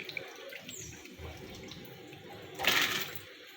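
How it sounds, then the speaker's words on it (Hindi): Water is poured into a cooking pot of soaked lentils for chicken haleem, a soft steady splash that swells into a louder, fuller gush near the end, with no talking. "मैंने 6 किलो पानी अंदर डाला है पकने के लिए"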